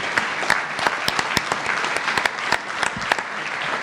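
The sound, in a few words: applause for the graduates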